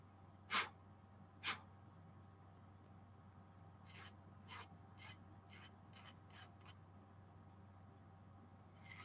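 Deburring the edge of a metal part, two sharp rasping strokes followed by a quicker series of about eight lighter scraping passes, close and fairly quiet over a low background hum.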